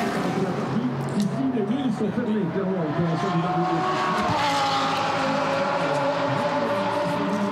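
An Audi race car crossing the timing line at Spa during a 24-hour endurance race, its engine revving up and down through gear changes as it passes, then a sustained high whine as it fades away, with a commentator talking over it.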